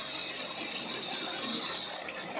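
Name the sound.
coriander water poured into the chicken pan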